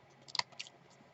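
Scissors snipping paper off a handmade Halloween greeting card, a few quiet crisp clicks close by in a near-silent room.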